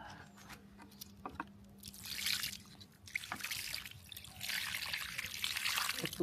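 Water trickles and splashes onto a potted asafoetida plant in uneven bursts, starting with scattered drips and building to a steady close pour, no talking.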